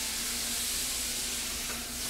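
Blackened fish sizzles steadily on a grill, a continuous, fairly loud hissing and crackling with no talk.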